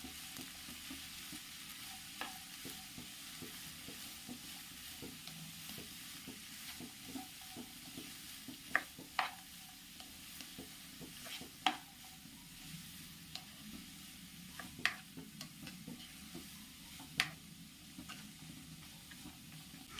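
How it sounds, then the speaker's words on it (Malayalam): Long beans and carrot with chopped green chilies and curry leaves stirred in a pan for thoran, a faint steady sizzle broken by soft, irregular scrapes and clicks of the spoon, no voices. "ഇനി നമുക്കിതൊന്ന് ഇളക്കി കൊടുക്കാം"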